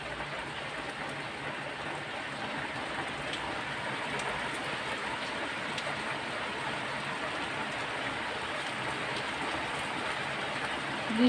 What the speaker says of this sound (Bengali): আর এই যে বৃষ্টি পড়তেছে,